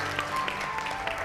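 A studio audience on a television talk show claps briefly to welcome a guest herbalist, a short burst of scattered hand claps over a faint musical hum.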